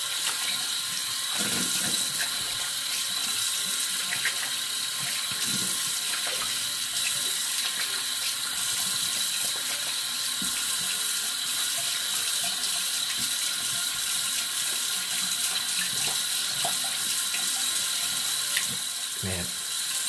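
Steady running cold tap water fills the clip, with occasional faint clinks and splashes as a shaving brush is rinsed under the stream.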